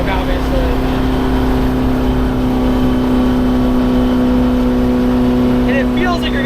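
A two-stroke Detroit Diesel in a 1949 Ford F7 truck drones at high revs, loud and close, with a steady buzzing engine note running continuously throughout.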